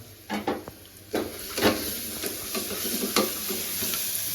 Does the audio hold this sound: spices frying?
yes